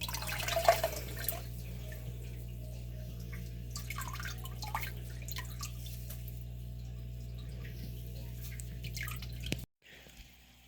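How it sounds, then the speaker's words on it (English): A bucket fills with cold water from a tap, a quiet trickle with scattered drips over a low steady hum. It runs evenly and faintly, then breaks off abruptly near the end. "Bucket filling with nice cold water."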